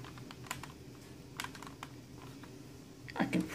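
An Akko mechanical keyboard is typed on, giving a run of close, crisp key clacks in irregular bursts, growing busier and louder near the end, with no voices.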